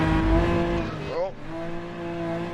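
A race car in the Rennsport racing game oversteers, its engine holding a steady droning note before a brief sweeping tire squeal mid-slide, then the engine drone resumes.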